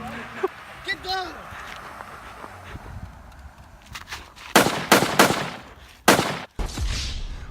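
Gunfire sound effect in a comedy sketch about a protest shooting at a factory: shouting voices come first, then several loud, sharp bursts of rapid shots close together.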